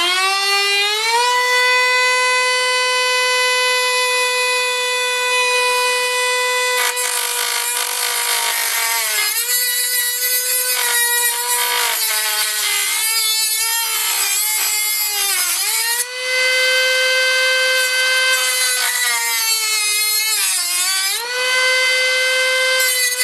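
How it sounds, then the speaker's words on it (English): A Dremel fitted with a metal cutting disc slices through model railway rail track, a loud continuous high whine that dips in pitch as the disc bites and recovers, running alone for over twenty seconds. "I'll be using a Dremel with a metal cutting disc on the end"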